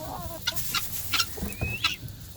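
Chickens clucking inside a coop during cleaning, several short bursts of clucks and squawks repeating every half second or so, fairly close, with a thin whistle-like note near the end.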